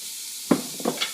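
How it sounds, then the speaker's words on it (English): Soup mixture poured into a hot pot sizzles with a steady, close hiss, broken by a few soft clunks of pot or utensil; no voices. "So you pour it all in, and it makes that sizzling sound"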